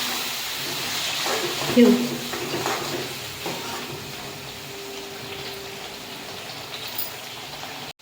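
Half a cup of water is poured into spice masala frying in oil for Khandeshi shev bhaji, giving a moderate splashing hiss that settles into softer bubbling, with a brief spoken word.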